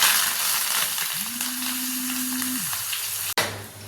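Steady loud sizzling of curry leaves hitting hot oil in a tempering for sambar, with a brief hum partway through and a sharp click near the end.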